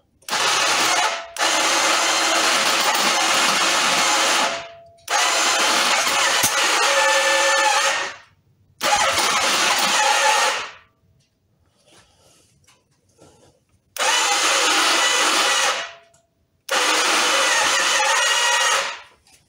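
A 1985 Venture Royale motorcycle engine with a suspected bad starter clutch cranks in four or five loud, sustained bursts of a few seconds each, separated by short pauses, without clearly catching and running.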